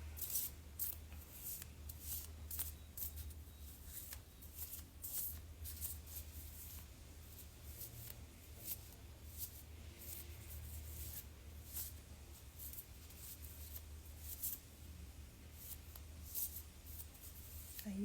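Oracle cards being shuffled by hand during a weekly yoga mudra oracle reading, a steady run of soft papery riffles and rubs that carries on continuously at close range with no talking.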